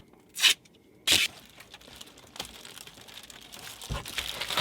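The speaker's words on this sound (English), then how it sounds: "Duct tape." Duct tape is pulled off the roll and torn, with two sharp ripping bursts early on followed by softer crinkling and rustling, close and fairly quiet.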